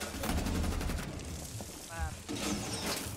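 Shotgun fire in the video game Rainbow Six Siege, a dense burst of loud blasts and mechanical clatter crowding the first second, then scattered shots and metallic clanks, with game effects and occasional speech mixed in.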